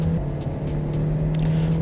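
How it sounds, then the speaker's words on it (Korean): A Kia Sportage SUV accelerates hard on a test drive, heard from inside as a steady, loud engine drone with rising road and wind roar that runs unbroken for a couple of seconds. "자, 가속해 볼게요."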